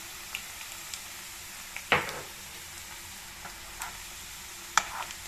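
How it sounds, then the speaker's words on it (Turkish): Potatoes frying in a home kitchen pan, a faint soft sizzle under a few sharp clinks and stirring knocks. "Burada da patateslerim kızarıyor."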